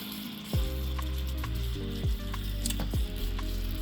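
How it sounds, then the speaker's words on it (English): Salmon sizzles in a hot golden pan with a steady hiss, broken by three sharp metallic clanks from a utensil or the pan. "Put in the salmon in the golden pan"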